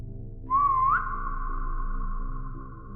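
A person in an IKEA store whistles one close, clear note, with a brief wavering rise that settles into a long held steady tone over low background hum.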